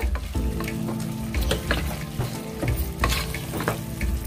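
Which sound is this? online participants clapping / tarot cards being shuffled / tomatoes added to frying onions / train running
tomatoes added to frying onions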